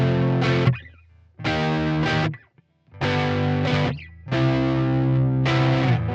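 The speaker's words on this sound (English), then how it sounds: "one thing a lot of guitarists do without realizing is making a bunch of extra noise in between chords or notes" Distorted electric guitar strums sustained chords in bursts, with scratchy string noise and stray squeaks filling the short gaps between them, loud and close, with one brief silent break.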